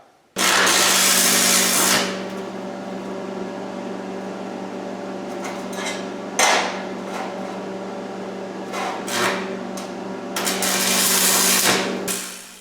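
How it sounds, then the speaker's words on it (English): Lincoln AC-225 stick welder tacking steel plates with 1/8 inch 6011 rod: a loud, steady crackling arc buzz over a low electrical hum, starting abruptly and swelling in a few harsher bursts before cutting off near the end. "I'll go ahead and turn it on and tack up a couple plates to try."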